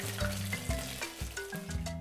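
Sliced zucchini frying in clear oil in a pan, a steady close sizzle with bubbling crackle and a low hum running throughout, no voices.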